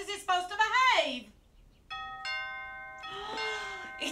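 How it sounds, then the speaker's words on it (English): A household doorbell rings with a clear two-tone ding-dong chime, heard twice in succession after someone's raised voice. "It's the doorbell."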